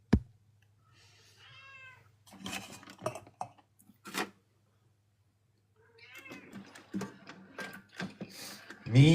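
A cat meows several times with pauses in between, the calls rising and falling, fairly close and clear against a low steady hum.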